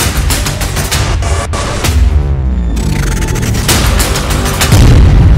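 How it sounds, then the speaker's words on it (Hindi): A North Korean ballistic missile launch, a loud continuous roaring blast that rumbles and crackles throughout with sustained thunderous intensity. "उत्तर कोरिया ने दागी बैलिस्टिक मिसाइल। 2 मिसाइल एक साथ हुई लॉन्च।"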